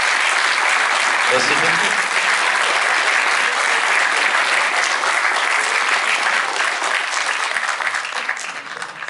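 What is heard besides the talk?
audience applauding after film screening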